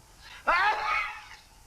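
A cartoon sneeze from the 1952 Jack and the Beanstalk, one sudden loud burst that trails off over about a second, with faint background below.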